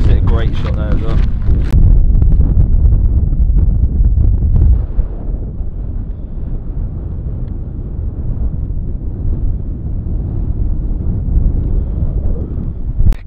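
Strong wind buffets the microphone on a championship links golf course, a steady low roar that is heaviest in the first few seconds and keeps rumbling throughout.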